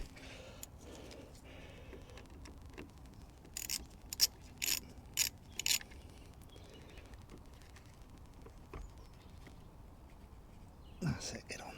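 A ratchet works on the battery fitting of a Honda Jazz, giving a short run of sharp clicking strokes midway through, surrounded by faint mechanical handling noises and low murmured speech.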